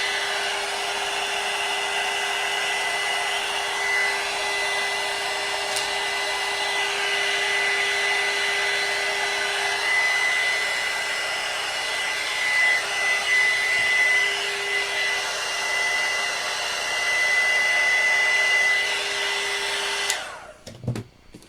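A hair dryer blows steadily on freshly painted spots of a simple wall shelf, holding a constant whirring drone for about twenty seconds before it cuts off abruptly.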